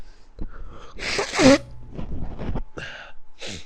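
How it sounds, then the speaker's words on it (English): A single loud sneeze bursts out midway, surrounded by quieter breathy vocal sounds and shuffling noise. "We are not editing out my sneezes."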